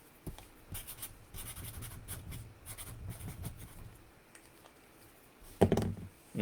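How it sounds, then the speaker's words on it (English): Pen scratching steadily across paper for several seconds while a note is jotted during a sports trading card break, followed by a sharp knock or thunk near the end; no talking. "Let me make a note real quick."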